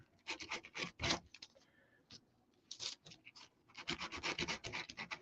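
Short bursts of sanding rasp against the wood edges of small cut-out noses, quiet and close, stopping and starting in uneven strokes with brief pauses between.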